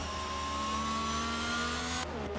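A race car in a racing game lapping the Hungary circuit, its engine holding a steady high-pitched whine under throttle before the note abruptly drops and shifts near the end, with no voices.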